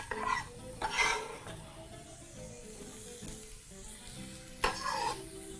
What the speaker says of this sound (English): proceed to discard the root end and proceed to move your onions into your pan.